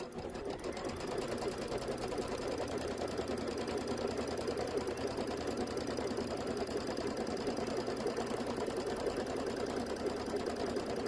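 A Kimberbell embroidery quilting machine stitches a placement line for batting, a steady, fast mechanical whir and rapid needle chatter running evenly and alone, close but fairly quiet.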